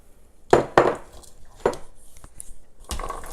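A whole onion drops into a pot of beef stew, giving a few sharp clunks and a muffled thud against the metal, with a final rattling knock near the end.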